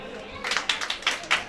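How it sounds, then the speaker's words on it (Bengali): A small group gives a brief, light round of clapping during a community gathering, a few scattered claps rising after a quiet start, fairly faint and loose in rhythm. "আরেকটা করতালি।"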